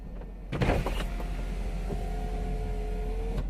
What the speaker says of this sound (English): So to open the roof